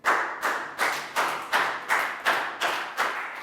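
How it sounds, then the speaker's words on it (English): A classroom group claps in unison, about eight slow, evenly spaced, firm claps close by with no talking. "Big round of applause for Chu."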